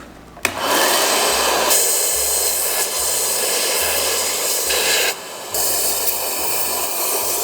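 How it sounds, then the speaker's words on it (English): A loud, steady rush of compressed air hisses continuously into a Suzuki TS400 Apache motorcycle carburetor, cutting out briefly twice, over a low pulsing hum. "we put the compressed air in the carb"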